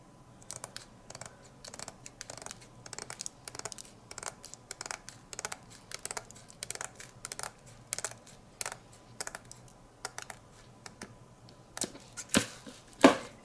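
Scissors snipping small scraps off fat quarter fabric pieces, a steady run of quick, crisp cuts close by, growing a little louder toward the end, with no talking.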